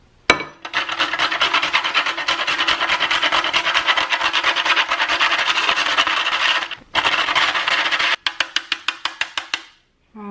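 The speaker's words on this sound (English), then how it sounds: "I'm also going to grate about 1/2 teaspoon of nutmeg, which takes forever to grate nutmeg" Whole nutmeg is grated by hand in a fast, steady run of close raspy scraping strokes, pausing briefly twice, then ending in a few separate short scrapes.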